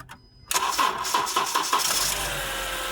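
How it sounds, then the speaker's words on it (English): A Honda Accord that had a no-crank fault, with a new battery and alternator, cranks briefly and then catches and starts, settling into a steady idle close by. "The engine tried to start it the first time, but it couldn't do it, but it did it the second time"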